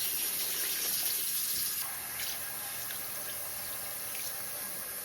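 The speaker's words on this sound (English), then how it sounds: "I'll do 2 cups of water" Water from a tap runs steadily into a cooking pot as two cups are measured out for stovetop rice, a continuous close hiss that softens partway through as the pot fills.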